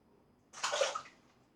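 A brass-frame Parker Variant safety razor glides across the skin in one short, close, crisp rasping stroke that swells and fades, with quiet around it and no talking.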